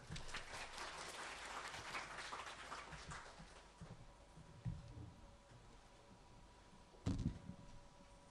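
An audience applauds a guest speaker at a fiber-optic technology seminar in a small hall. Dense, steady clapping fills the first few seconds, then thins to scattered claps and fades toward quiet.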